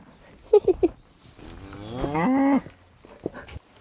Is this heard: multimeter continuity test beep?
no